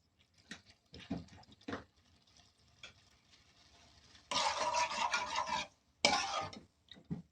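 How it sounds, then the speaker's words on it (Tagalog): Spaghetti sauce with fresh milk added is stirred in a pan, giving soft scrapes and then two bursts of loud wet swishing and churning, close up, with no talking. "Haluin natin."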